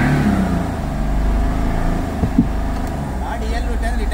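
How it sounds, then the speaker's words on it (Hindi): Tata Tiago three-cylinder diesel engine with Delphi injectors, one injector still locked, catching and running with a rough mid-pitched idle and a brief rev, close by, with voices in the background. "गाड़ी हमारी स्टार्ट हो गई है"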